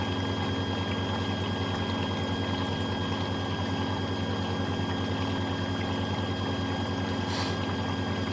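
Bosch WFO2865GB/08 Exxcel washing machine on a 30°C woollens cycle filling with water, a steady pouring and hissing flow with a low mechanical hum, continuous and close, no talking over it.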